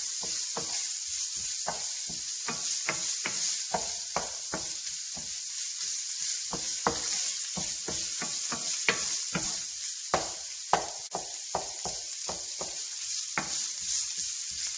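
Ground beef fries in a pan for dirty rice while a utensil scrapes and stirs it, with a steady sizzle carrying many sharp, irregular clicks and taps up close.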